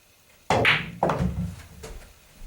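A cue tip strikes a pool ball with a sharp thunk, and a second knock follows about half a second later as the balls meet or the ball drops into the pocket. Both hits are close and clear, with no talking.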